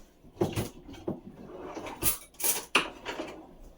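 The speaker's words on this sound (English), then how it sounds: "Best way to cut it is with a butter knife." A butter knife cuts through a stick of butter in a kitchen, giving a few soft clacks and taps of the blade on a hard surface at close range.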